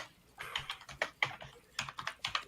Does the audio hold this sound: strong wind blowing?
no